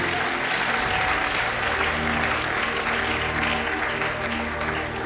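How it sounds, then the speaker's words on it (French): A congregation at a divine healing church service claps loudly, a dense, sustained applause filling the whole stretch, with a faint undertone of voices in the hall. "Acclame très fort, tu es merveilleux."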